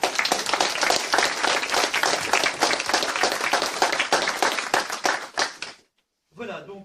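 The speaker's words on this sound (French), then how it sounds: "Donc, je crois qu'on peut applaudir Gilbert" An audience at a political conference in Toulouse applauds, a dense, steady burst of clapping for several seconds that stops abruptly, followed by brief speech.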